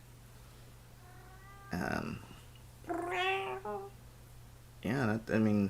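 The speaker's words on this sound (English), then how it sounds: "You might hear some cats meowing every now and again." Indoor house cats meow several times: a drawn-out meow, then a louder, wavering cry, then two more close, sharp meows. Someone speaks briefly between them, and a low steady hum runs underneath.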